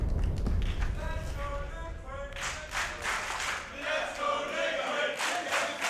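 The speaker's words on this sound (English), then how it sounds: "Got the cheering going." A packed esports arena crowd at a BLAST Premier Counter-Strike event in London cheers and claps. A commentator's voice opens the stretch before rhythmic clapping and roaring shouts swell and persist.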